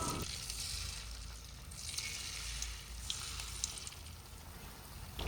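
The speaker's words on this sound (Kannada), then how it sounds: "ಎಣ್ಣೆ ಬಿಸಿ ಆಗಿದೆ. ಒಂದೊಂದೇ ಮೊಟ್ಟೆ ಪೀಸಸ್ನ ಹಾಕ್ಕೊಳ್ಳಿ." Battered egg chilli pieces fry in hot oil with a steady, close sizzle and crackle, with small pops scattered throughout and no talking.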